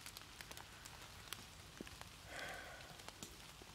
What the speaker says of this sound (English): outside underneath this canopy, it's like raining